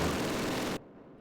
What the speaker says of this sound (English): Some of my own mortar shells in there.